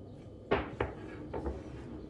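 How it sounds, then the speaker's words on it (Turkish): A spoon stirring tahini into a thick mixture in a bowl, a few distinct knocks and scrapes against the bowl spaced unevenly over a couple of seconds, close and alone. "Tahini de ekledikten sonra önce kaşıkla karıştıracağım."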